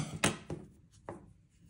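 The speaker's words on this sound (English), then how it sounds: "So I just chained one and I'm going to cut my yarn." Scissors snip through crochet yarn with two or three quick, crisp cuts close by in an otherwise quiet room.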